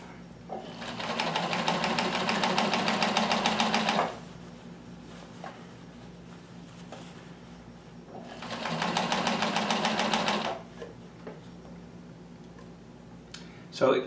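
A Bernina 610 sewing machine stitching in slow mode, heard close up in two distinct bursts of rapid, even needle chatter with a quieter pause between them.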